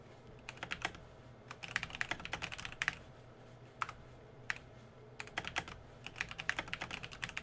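Typing on a computer keyboard during a Fallout 4 livestream: quick bursts of close, crisp keystrokes separated by short pauses, quiet and unaccompanied by talk.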